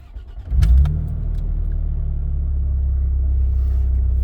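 A supercharged 2011 Toyota Tacoma TRD with a six-speed manual cranks briefly, then its engine catches and settles into a steady, close, low idle rumble.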